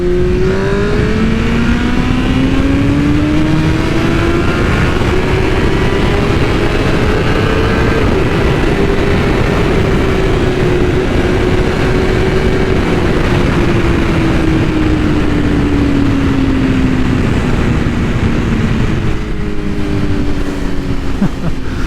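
A BMW M1000RR motorcycle on its stock flash accelerates hard, the engine note climbing and rising in pitch over a long pull, loud and close throughout with constant wind roar and no talking.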